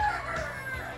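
Chickens clucking in a backyard coop on a small plot: a close, busy chorus of overlapping clucks and murmurs from many birds, heard alone without talk.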